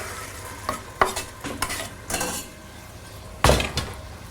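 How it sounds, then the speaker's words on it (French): Onions are stirred in melted butter in a pan, with a utensil scraping and clinking against the metal in a few separate strokes over a soft sizzle, close and fairly quiet. "Je remue de façon en augmentant légèrement un peu le feu"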